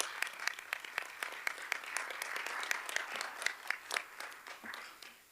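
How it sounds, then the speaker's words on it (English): An audience at a board of education meeting applauds student award winners, a brief burst of scattered, moderately distant clapping that fades out after about five seconds. "Please join me in a round of applause for those outstanding accomplishments."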